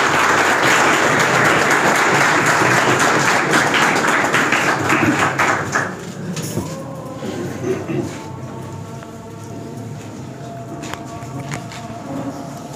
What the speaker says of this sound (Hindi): आइए हम सब इनके लिए तालियां बजाते हैं